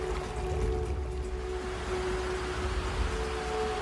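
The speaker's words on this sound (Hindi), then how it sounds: "गुफा में नदी के बहते पानी का नजारा भी बहुत ही खूबसूरत लगता है।" River water flowing through a cave, a steady broad rushing wash with a low rumble, constant and moderately loud with no voices.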